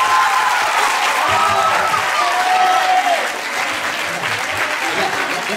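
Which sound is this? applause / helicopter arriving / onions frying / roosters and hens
applause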